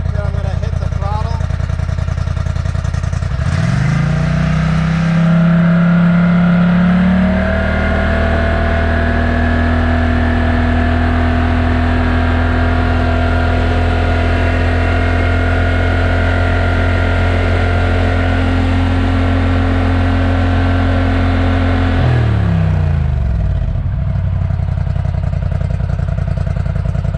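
A Polaris Scrambler 1000XP ATV engine with an HMF Titan XL aftermarket exhaust revs up sharply and holds at a loud, raspy high pitch for many seconds, then drops back down to a rough idle.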